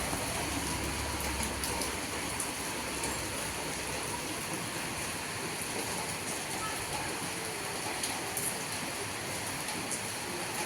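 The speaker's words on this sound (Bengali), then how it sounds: "বৃষ্টি পড়ছে।" Steady rain falls outdoors during a festival season, a dense continuous hiss and patter that holds at an even level throughout with no breaks.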